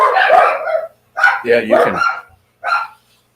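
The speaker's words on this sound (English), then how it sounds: "the cat gets close enough to screw with them to get them to bark" Dogs bark in loud, close bursts, provoked by a cat getting near them, with pauses between volleys and a person speaking briefly among the barks.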